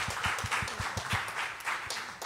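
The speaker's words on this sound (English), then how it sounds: "let's give another round of applause for Winona." A congregation at a Sunday church service claps after a testimony, the rhythmic hand claps steady and moderately close before thinning out toward the end.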